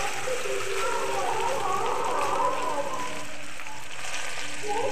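Soaked matar dal (split peas) deep-fry in hot oil for crunchy chanachur, giving a steady, even sizzle and crackle that holds at the same level for five seconds, close by, with no talking.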